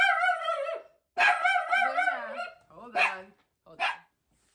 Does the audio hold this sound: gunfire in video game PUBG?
no